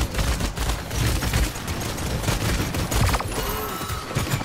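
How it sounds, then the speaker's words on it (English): Several players fire at once in a Paladins ranked match, producing dense, continuous bursts of overlapping gunshots and explosions throughout. "There's just literally five people shooting at me right now."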